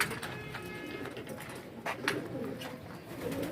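Pigeons cooing softly at a net trap, with low, faint coos under outdoor background noise and a few brief rustles.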